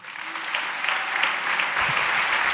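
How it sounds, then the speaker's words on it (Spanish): An audience applauds a psychologist from the University of Valladolid at a talk on happiness, a continuous wash of many hands clapping, steady and fairly loud, swelling slightly toward the end. "Un aplauso para ella."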